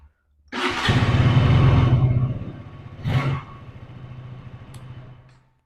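A KTM 200 motorcycle, a 2023 RC 200 or Duke 200, cranks and fires into a loud, close idle, with one sharp rev about three seconds in before settling back to a steady single-cylinder burble.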